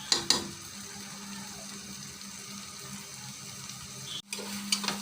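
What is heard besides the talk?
fish roe frying in a pan while being stirred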